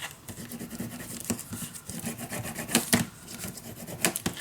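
Close scratchy rubbing as paper is burnished down inside a scrapbook mini album, continuous back-and-forth strokes with a few sharper scrapes, no voices.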